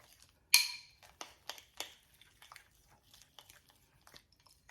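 Soft butter compound being mixed in a bowl with a utensil, giving a sharp clink followed by a run of fainter scraping and tapping strokes, close and fairly quiet, with no voices.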